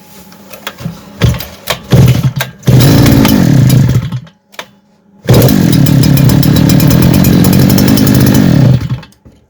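A Kitprom petrol brush cutter runs with a loud, buzzing two-stroke whine, first sputtering and revving in uneven bursts, then dropping out briefly before holding a steady high-revving drone close to the microphone.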